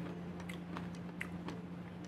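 Crunching bites of crunchy, flaky homemade Butterfinger-style candy with thick layers, a series of small crisp cracks and chews close up over a steady low hum.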